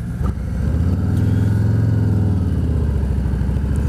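A motorcycle engine rises from idle into a loud, close rev as the bike pulls away for a ride, the low rumble swelling and then easing off, with no talking.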